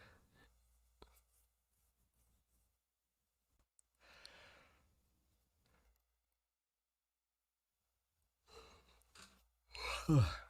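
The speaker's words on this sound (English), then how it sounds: "Just had to get that yawn out before starting." A person lets out a long, breathy yawn during a quiet drawing session, with a faint airy exhale midway and a louder, rising sighing yawn at the end, close to the microphone.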